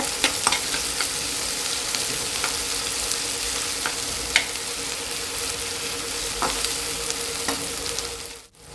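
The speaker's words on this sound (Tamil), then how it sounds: "1 ஸ்பூன் இஞ்சி பூண்டு பேஸ்ட்டையும் சேர்த்து நல்லா ஃப்ரை பண்ணிக்க போகிறோம்." Ginger garlic paste fries over medium heat in a pan for a Tamil yam masala, a loud, continuous close sizzle with scattered scraping ticks from stirring, cutting off abruptly at the end.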